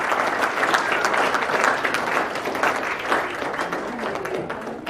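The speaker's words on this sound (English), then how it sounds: "Give them a big applause" Steady, sustained applause from a crowd, loud and continuous throughout with no pauses.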